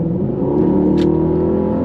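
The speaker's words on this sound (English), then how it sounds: "We'll just drop the hammer just one more time just to listen to that engine" A 2021 Mercedes GLS63 AMG engine under hard acceleration, a steady loud low rumble and rising roar heard from close up, with no talking.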